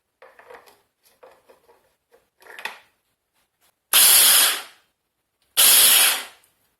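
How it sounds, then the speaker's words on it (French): Mushrooms are coarsely chopped in a small food processor after some quiet handling clatter, heard as two loud, close pulses of whirring blades of about a second each, separated by a brief pause. "Je commence par hacher les champignons dans mon petit robot."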